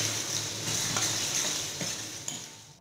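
Chopped green chilies, garlic and onion fry in a pan with a steady, close sizzle, broken by a few soft clinks of stirring.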